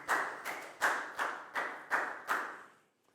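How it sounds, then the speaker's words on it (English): Small class of primary pupils giving a round of applause during an English lesson: six distinct, evenly spaced bursts of hand claps, close and moderately loud, with no talk over them. "Big round of applause for Nadia."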